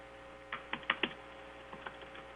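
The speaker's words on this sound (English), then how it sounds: "I'll go ahead and type." Several quick clicks on a computer keyboard come in a short burst, then a few softer keystrokes follow over a faint steady hum.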